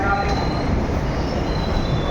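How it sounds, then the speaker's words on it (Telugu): The Kanyakumari Express 12633 arrives at Nagercoil railway station platform with a loud, steady rumble of wheels and carriages and a faint high wheel squeal running through it. "నాగర్కోయిల్ స్టేషన్కి అయితే చేరుకుంది మన బండి"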